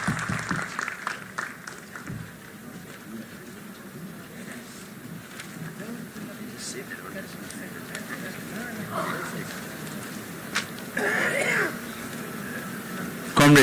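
A congress crowd of workers' delegates accepts a resolution with applause, a long rolling wash of clapping mixed with crowd noise and occasional voices, swelling again near the end.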